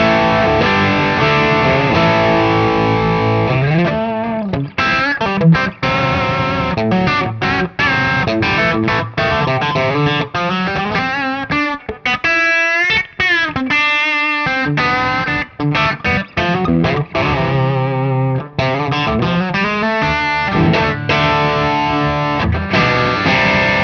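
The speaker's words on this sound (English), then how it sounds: "It's a great sounding pedal, great sounding circuit." Electric guitar played through a transparent overdrive pedal, loud driven chords and single-note riffs continuing without pause, with no talking over the playing.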